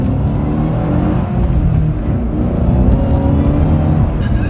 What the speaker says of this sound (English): That Supercharger Whine, though, it's so addicting.